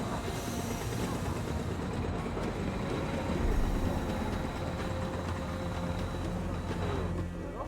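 The most luxurious train in the world runs steadily in the Murder on the Orient Express video game, with a continuous rolling rumble and faint rail noise throughout and no voices.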